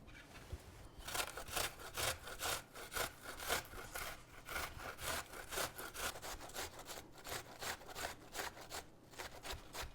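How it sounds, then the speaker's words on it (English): An onion is grated on the large holes of a box grater, making rhythmic, rasping back-and-forth strokes, close and fairly quiet, with short pauses between runs. "we're gonna grate 1 onion using the large holes"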